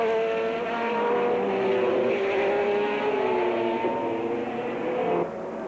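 Sports cars racing in the 1987 Brands Hatch 1000km, including Jaguar and Porsche endurance prototypes, with loud engine drones that rise and fall in pitch as cars pass, continuous throughout and ending in a sudden drop.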